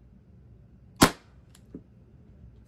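A single sharp shot from a Pepperball TCP launcher fired through a test barrel, loud and close, followed half a second later by a faint softer click or impact.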